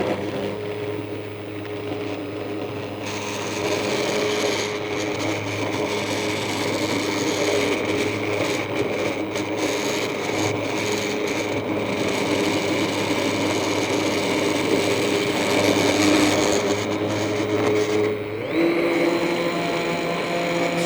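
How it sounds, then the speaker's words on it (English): Stick blender pureeing avocado soup in a pot, a steady loud motor whine with churning liquid running continuously for most of the stretch, starting after a quieter opening and cutting off briefly near the end. "If you don't have a stick blender like this, you can use a regular blender."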